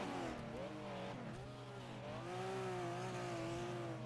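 Engines whine and rise in pitch as cars race in the video game Wreckfest, several motors overlapping at a steady moderate distance, quiet overall with no clear skid bursts.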